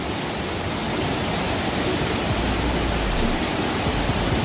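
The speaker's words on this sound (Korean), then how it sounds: "비둘기낭 폭포가 보이네요." A steady, full roar of rushing water from Bidulginang Falls in South Korea, running high after rain, loud and unbroken throughout with no voices.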